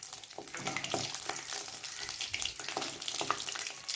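Gulab jamun balls frying in hot oil at a low simmer, giving a steady, even bubbling sizzle that stays close and continuous, with no voices.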